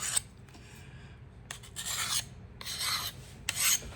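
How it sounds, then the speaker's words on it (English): A diamond sharpener runs along a knife blade held still, giving a few gritty rasping strokes of varying length with quiet pauses, close-up and without speech. "presenting the diamond sharpener to the blade, keeping the blade still and running it on that"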